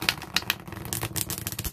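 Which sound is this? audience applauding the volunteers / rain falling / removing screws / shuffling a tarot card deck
shuffling a tarot card deck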